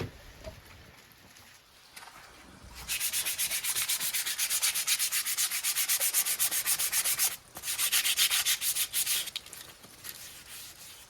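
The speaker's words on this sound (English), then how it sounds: "So I'm going to sand that smooth." A wooden war club being sanded smooth, with steady broadband rubbing strokes that start after a quiet stretch, run loud and close, break briefly, then resume.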